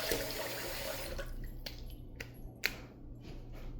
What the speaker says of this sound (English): Let's get a little cool water on the face